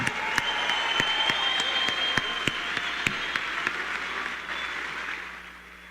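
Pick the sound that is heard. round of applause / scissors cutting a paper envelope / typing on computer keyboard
round of applause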